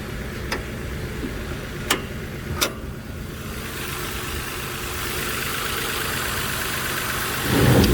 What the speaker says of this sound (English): I can hear a little exhaust leak.